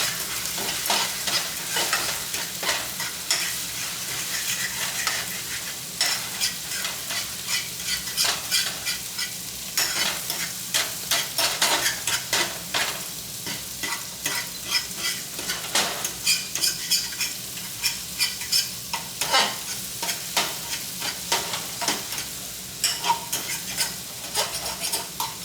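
Scrambled eggs stirred in a hot frying pan, a steady close sizzle with rapid scraping and clinking of a utensil against the pan throughout, no talking.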